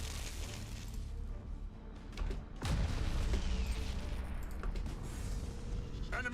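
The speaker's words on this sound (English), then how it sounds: "Nova cannons." Nova cannons fire in the space strategy game Battlefleet Gothic Armada 2, a heavy booming blast with rumbling decay that stands out midway amid a dense layer of distant battle fire and impacts.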